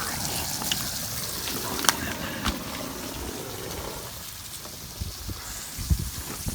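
Water runs from a hose in a hoop house, splashing steadily in a broad hiss, with occasional louder gurgles and spatters close by.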